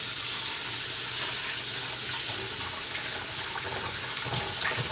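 A water tap in an apartment building runs hard and steady, giving an unbroken, fairly loud rushing stream close by with nobody talking.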